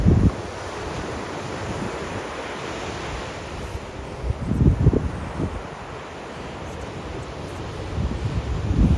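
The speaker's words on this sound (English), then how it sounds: "One of my favorite things was just listening to the waves crashing." Ocean surf washes in on a beach at Adelaide, South Australia, with low rumbling surges every few seconds, mixed with steady wind buffeting the microphone.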